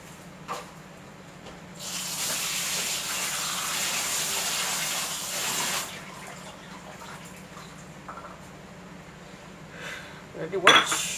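Water runs and splashes as peeled ginger is washed in a bowl, a steady gush for several seconds, then quieter handling and a clatter of dishes near the end.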